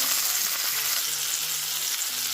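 Vegetables and apples sprinkled with sugar fry in a pan with a loud, constant sizzling hiss that stays even throughout.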